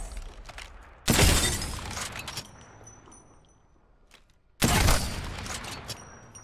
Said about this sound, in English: That's a Kraber.